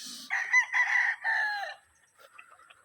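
A young rooster gives one loud, broken crow that trails off, followed by soft clucking nearby.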